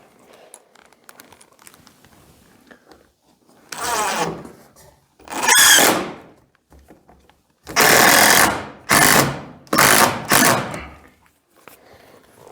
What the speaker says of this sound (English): So we will get a screw put in on this side.